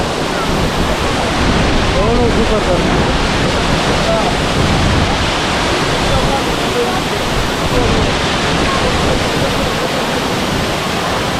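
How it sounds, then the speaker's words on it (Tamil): Water pours steadily down Masila Falls in the Kolli Hills, a loud continuous roar with spray, filling the scene close by while someone speaks briefly over it. "பாருங்க தண்ணி எப்படி கொட்டுதுன்னு"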